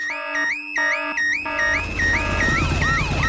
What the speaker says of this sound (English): Daddy Pig has set off the noisy house alarm.